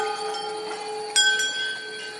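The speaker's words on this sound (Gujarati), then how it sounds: "એની પડખે જો આવી ઘંટીઓ છે" Hanging temple bells at Dhari Devi temple ring with sustained metallic tones, and a fresh strike rings out clearly midway before slowly fading.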